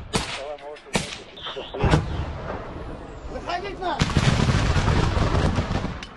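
Heavy gunfire and artillery-like blasts in a clash involving Russian soldiers, a chaotic mix of sharp loud bangs and rumbling impacts, intensifying into a sustained dense barrage toward the end, with voices faintly mixed in.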